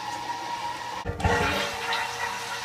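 Ethanol pours into a drum of tap water in a short, rushing splash that starts abruptly about midway and continues strongly to the end, with no talking.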